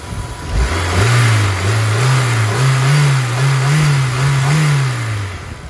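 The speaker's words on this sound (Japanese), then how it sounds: "ちょっとふかしてみます" A used Honda S2000 AP1 engine, idling smoothly with no abnormal noises, revs up several times in a steady, wavering rhythm, rising and falling in pitch, close and loud with no talking.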